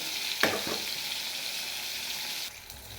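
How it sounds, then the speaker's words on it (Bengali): Katla fish sizzles steadily in hot oil in a kadai, with a couple of soft stirring knocks early on; the frying hiss dips slightly near the end. "কড়ার মধ্যে আমি মাছগুলো দিয়ে দিয়েছি, ওই লাল লাল করে ভালো করে আমি ভেজে নেব।"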